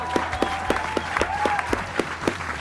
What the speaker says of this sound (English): Let's have a virtual round of applause for them.